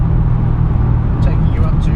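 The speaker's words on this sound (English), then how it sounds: "Nothing better than a good punch of the accelerator" A Ford Mustang engine rumbles loudly and steadily in a deep, sustained drone under a person talking, building as the car accelerates.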